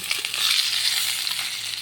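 Already-fried potatoes go into a wok with a little hot oil and fry with a bright, crackling sizzle, close and continuous, with faint clatter as they settle.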